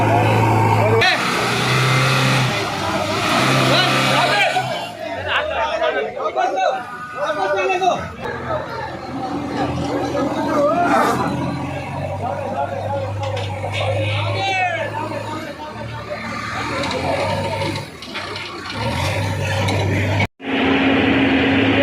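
On the muddy Amba Ghat road, jammed with traffic, a JCB pushes stuck vehicles. Engines rumble and rev loudly, with almost constant crowd chatter and voices over the machinery.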